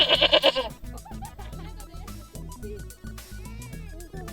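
A male goat lets out a short, rapid burst of loud, close bleats. Other busy, tonal sounds carry on after the bleats fade.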